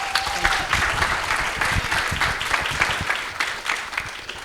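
Audience applause at a Democratic roadshow event in Ruston, a steady wash of clapping from a room of people lasting several seconds, moderately loud with no talk over it.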